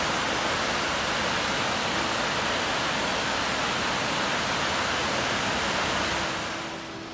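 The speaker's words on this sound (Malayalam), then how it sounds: "റെഡ്ബർക്ക് ഡാമിൽ നിന്നും വെള്ളം ഒഴുകി വരുന്നൊരു കാഴ്ച ഉണ്ടോ" Water pours from the Munnar Headworks Dam, a steady, loud broadband rush that holds constant throughout and fades slightly at the very end, with no voices.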